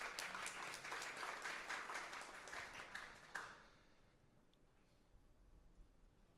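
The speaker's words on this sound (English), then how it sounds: "Another round of applause." An assembly business meeting audience gives a round of applause, a brisk burst of many hands clapping that cuts off after about three and a half seconds, leaving a quiet, hushed room.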